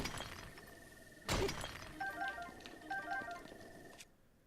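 A weapon shatters in Zelda: Breath of the Wild with a sharp, loud crack of breaking, followed by soft chiming tones and brief game jingles before fading out.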